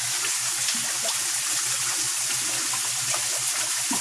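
A koi pond pump pushes a strong flow of water through a DIY skimmer setup in a 4.6-ton pond, producing a steady, close rushing and gurgling wash that holds constant with no voices.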